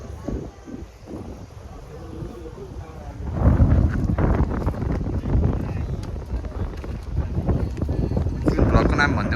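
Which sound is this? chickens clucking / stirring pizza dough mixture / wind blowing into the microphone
wind blowing into the microphone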